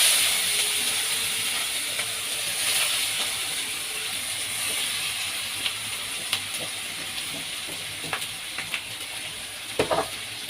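Mashed potato fries in hot oil with a steady, close sizzle and hiss, broken by occasional small clicks and scrapes of stirring.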